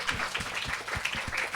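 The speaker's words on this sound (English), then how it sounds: "Please give yourself a huge round of applause" Audience applause at a statistics conference event, a steady wash of many hands clapping with no voices over it.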